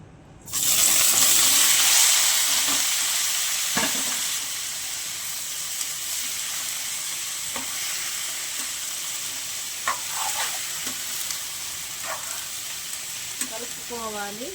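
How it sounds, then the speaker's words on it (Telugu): Tomato, ridge gourd and green chilli pieces hit a hot pan and fry with a loud steady sizzle, with occasional utensil scrapes and clinks scattered through. "కోసి పెట్టుకున్న టమాటా ముక్కలు, బీరకాయ ముక్కలు, పచ్చిమిర్చి వేసుకుందాం."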